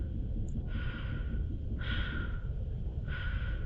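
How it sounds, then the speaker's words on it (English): Muffled, rhythmic breathing of a character inside an N7 armor spacesuit in the vacuum of space in Mass Effect 2, three slow breaths close and alone over a low steady hum. "Just my own breathing."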